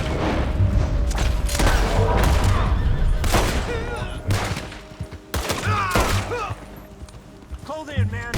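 Gunfire in the video game Red Dead Redemption 2, loud repeated rifle and pistol shots in rapid bursts with booming impacts, mixed with shouting voices and chaotic battle noise.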